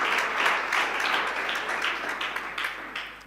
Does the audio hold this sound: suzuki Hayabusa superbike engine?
no